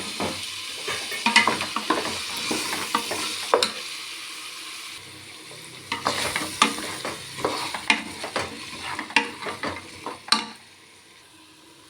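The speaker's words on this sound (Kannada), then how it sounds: "ಕಾಳು ಮತ್ತು ಕಡಲೆಕಾಯಿ ಅದಕ್ಕೆ ಹಿಂಗೆ ಹಾಕೋಣ. ಹಾಕ್ಬಿಟ್ಟು ಒಂದು 5 ನಿಮಿಷ ಫ್ರೈ ಮಾಡೋಣ." Chickpeas and peanuts fry in a pan, sizzling under frequent scraping stir strokes that come in bursts with a short quieter pause midway.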